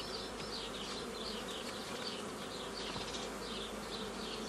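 A dense, continuous swarm of honey bees buzzes loudly and close by, as the bees are split into nuclei at an apiary, with a steady drone and no voices.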